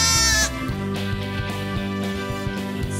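A sheep bleats at the start, a short wavering cry, followed by steady cartoonish background music with a repeating beat.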